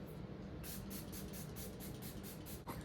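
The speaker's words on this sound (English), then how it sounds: "Setting spray." Makeup setting spray mists from a pump bottle in a quick series of short, soft hissing bursts, about eight sprays in a row, faint and close with no voices.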